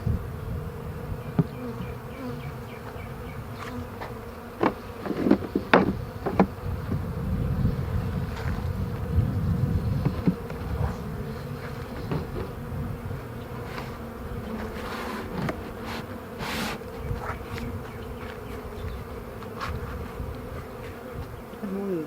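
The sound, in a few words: bees buzzing around a syrup feeder can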